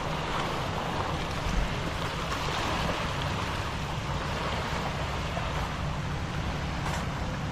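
Steady, loud wash of sea waves and surf noise at Real, Quezon Province, Philippines, continuous and broad with no breaks, no voices.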